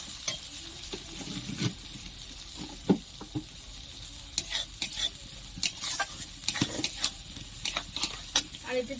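Prawns and pointed gourd sauté in a pan for a Bengali curry, with a steady soft sizzle under repeated scraping and stirring strokes, close and moderately quiet.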